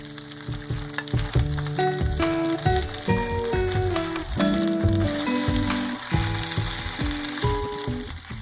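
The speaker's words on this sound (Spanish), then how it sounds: "En un sartén agregamos suficiente aceite y cuando esté bien caliente agregamos el tofu." Tofu cubes fry in plenty of hot oil in a pan, giving a loud, continuous crackling sizzle that runs the whole time beneath melodic background music.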